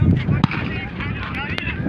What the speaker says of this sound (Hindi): फायरिंग कर रहे हैं यहाँ पे।